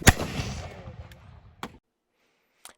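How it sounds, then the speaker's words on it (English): A single loud musket volley blast with a long rolling echo, followed by a couple of sharper cracks, then a faint distant report near the end. "I thought the muskets were loud"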